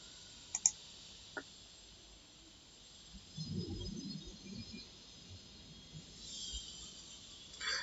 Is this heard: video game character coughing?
no